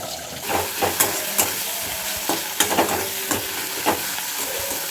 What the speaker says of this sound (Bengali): তো মশলাটা কষিয়ে নিই